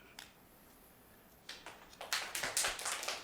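Audience at a city council meeting breaking into applause: a few scattered claps at first, then a growing patter of hands that builds toward the end, fairly quiet and distant in the room.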